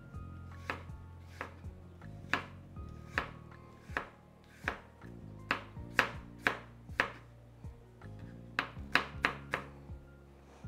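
Knife chopping shallots on a cutting board: a steady run of roughly twenty crisp, close strikes at an uneven rhythm, quickening toward the end, with no voices.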